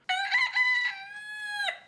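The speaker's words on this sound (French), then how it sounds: "se fait réveiller par le coq comme d'habitude, mais le bruit semble venir de bien plus proche" A rooster crows once close by, a loud, clear drawn-out cock-a-doodle-doo with a rising start and a long sustained tail, alone with no other sound.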